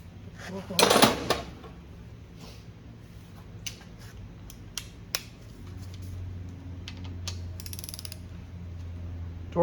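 A torque wrench ratchets during reassembly of a 454 engine in an old RV, giving a burst of rapid clicking followed by scattered metallic ticks and clinks over a low hum.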